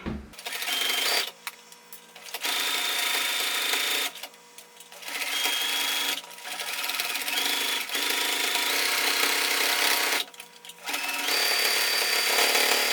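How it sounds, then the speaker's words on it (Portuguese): Sewing machine stitching around the edge of a three-layer cloth pad, running in several long continuous bursts separated by short pauses, loud and close with no talk. "a gente vai bater uma costura aqui em volta, só para manter as camadas unidas"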